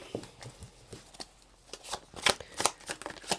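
Tarot cards are shuffled and flipped over close up, making crisp papery riffles and snapping slaps in quick irregular bursts, growing louder toward the end.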